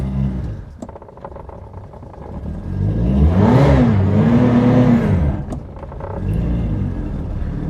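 A Reliant Fox engine starts and is revved up, rising to a loud, close swell, then holding and falling back toward idle, with faint mechanical clicks around it and no speech.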